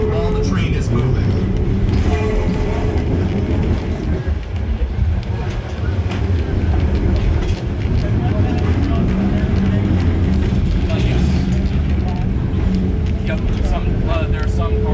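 A heritage train on a museum railroad ride at the Georgia State Railroad Museum rumbles along in a constant, loud low drone, with rattling and clatter throughout and people talking over it.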